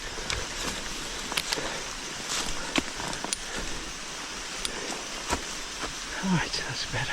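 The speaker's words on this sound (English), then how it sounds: "Rain's really coming down now." Heavy rain pounding down on a wild camping spot during a thunderstorm, a dense continuous patter with sharp individual drop hits scattered throughout, close and moderately loud.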